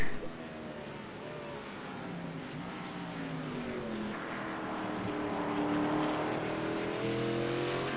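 Race cars run on a road course, several engines droning and rising in pitch as they sweep past at a distance, a steady roar that builds slightly toward the end without any talk.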